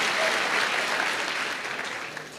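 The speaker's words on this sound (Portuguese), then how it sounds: "Você pode aplaudir a você mesmo agora?" A church audience applauds steadily, a dense wash of clapping that holds loud and then eases off slightly toward the end.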